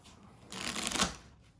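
Deck of playing cards for a pro wrestling promoter board game being shuffled by hand: one brisk riffle that swells and falls over about a second, close and clear, with no talk.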